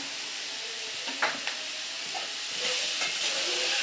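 Oil tempering fries in a pan for village-style ridge gourd dal: a steady, fairly close hiss and sizzle with a few faint clicks and stirring taps.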